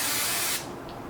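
Hairspray hisses from an aerosol can onto an updo hairstyle in a cosmetology lesson, one steady close spray for about half a second that then cuts off into quiet room tone.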